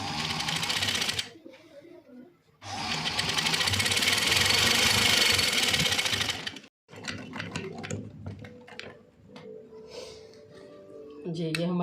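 Sewing machine stitching elastic onto a baby frock made from leftover kapron fabric, running in two long loud bursts with a short pause between, then lighter handling noises while someone talks.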